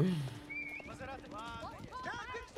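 Horses in Age of Empires 4 clip-clop and whinny in a brief stretch of fast, close cavalry action, with some voices and game effects underneath.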